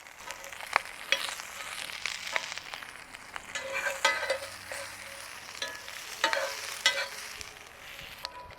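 Pineapple and vegetables sizzle in a cast iron pan on an outdoor grill, a steady frying hiss with intermittent scraping and clattering as a utensil stirs and moves the food, close and fairly loud.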